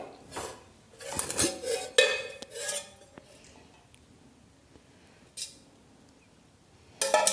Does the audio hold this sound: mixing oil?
yes